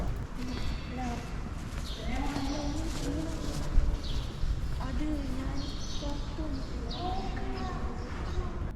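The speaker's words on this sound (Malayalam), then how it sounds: "കിളികളെ ശബ്ദം" Birds calling and cooing around the open courtyard of a mosque, scattered chirps and coos at moderate distance under steady ambient hum with people talking nearby.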